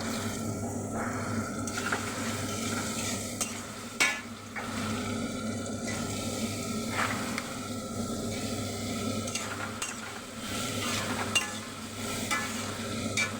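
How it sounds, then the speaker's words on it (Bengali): Boiled cabbage being sautéed and stirred in a pan for a Bengali cabbage and fish-head ghonto, with a steady close sizzle and repeated scraping strokes of the spatula throughout. "ভালো করে কষিয়ে নেব বাঁধাকপিটা কষানো হচ্ছে"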